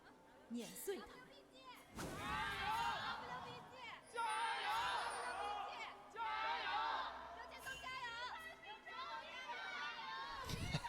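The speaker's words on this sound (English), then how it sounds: "As is tradition, you get some of the random shouts at the end." Esports arena crowd at an LPL summer playoff match, LNG Gaming versus Weibo Gaming, with loud shouts and cheering voices swelling in bursts over a continuous crowd roar.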